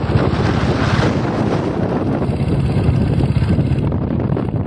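Sea waves and strong wind at a busy swimming beach, a loud continuous roar of surf with heavy wind buffeting the microphone, no voices.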